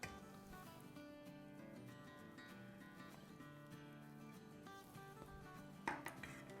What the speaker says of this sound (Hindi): हिला लेंगे,